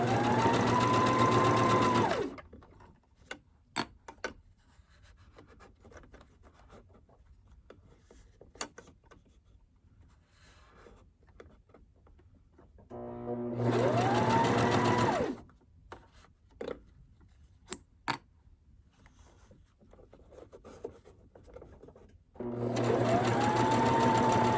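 A sewing machine stitches a zipper pouch in three loud, steady bursts of a few seconds each, separated by quiet pauses with small clicks and handling sounds.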